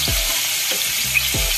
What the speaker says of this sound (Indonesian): Sambil dan mendidih, kita goreng ini